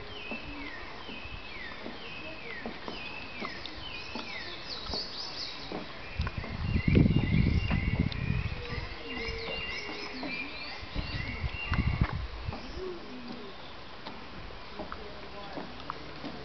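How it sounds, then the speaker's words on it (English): Birds sing and chirp outdoors at a South American environmental site, steady overlapping calls and ticking notes throughout, with people talking quietly nearby and some louder low rumbling in the middle. "I hope you can hear the sound of the birds."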